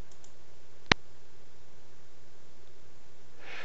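A single sharp mouse click on the Leave Bridge Call button in a phone call transfer app, close and crisp, alone against faint steady hiss.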